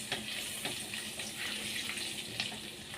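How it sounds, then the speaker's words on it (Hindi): Cumin seeds crackling in hot oil for an aloo capsicum sabzi, a faint continuous hiss of sizzling with scattered small pops, close but quiet, no voices. "ये देखिए ज़ीरा भी हमारा तड़कने लग गया है।"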